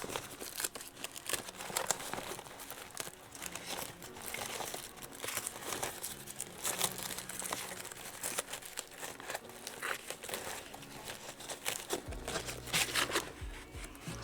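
Tissue paper and gauze are handled and crumpled up close, giving a steady run of crinkling and soft tearing rustles with no talking.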